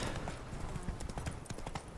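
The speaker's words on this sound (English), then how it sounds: "I forgot how long it's going to take to run with this stupid horse." In The Witcher 3, a horse gallops with rapid rhythmic hoofbeats clopping across the ground, moderately loud amid game ambience.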